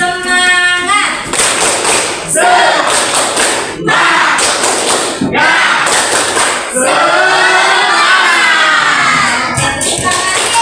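A classroom of pupils doing the tepuk semangat clapping chant, loud rhythmic claps in bursts mixed with children's voices chanting and shouting together, close and energetic.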